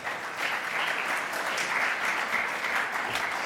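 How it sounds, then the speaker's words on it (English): Audience applause at a ministerial and CEOs roundtable, greeting Malawi's minister as she takes her seat; steady, dense clapping from a sizable crowd sustained throughout. "Please clap."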